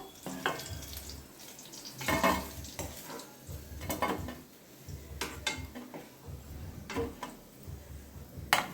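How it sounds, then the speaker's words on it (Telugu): Bitter gourd pieces fry in a pan until brown, a steady soft sizzle broken by repeated scraping stirs and clinks of a utensil against the pan at close range, with no talk. "ఇలా బ్రౌన్ కలర్ వచ్చేంత వరకు వేయించుకోండి కాకరకాయలని"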